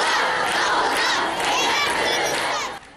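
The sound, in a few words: protesting women chanting slogans, whistling and clapping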